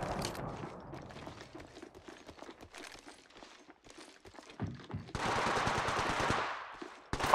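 Rapid automatic gunfire rattles through a match of the video game Apex Legends, bursts of sharp shots with mechanical clatter between them, building into a sustained loud volley near the end.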